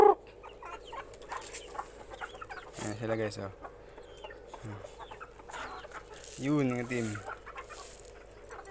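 Chickens clucking in short bursts, close by, as they are being fed, with a person talking over them.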